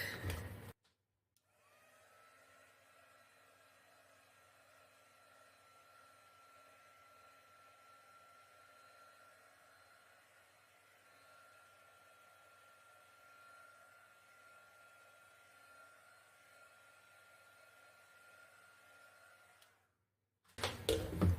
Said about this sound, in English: I'm going to hit this with a heat gun quick